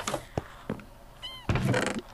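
A Minecraft cat gives a few short, bright meows with gaps between them, the last one longer and clearer, close up and alone.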